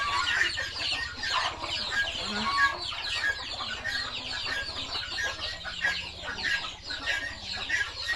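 Chickens cluck steadily throughout, a busy flock chattering close by with overlapping calls and no speech.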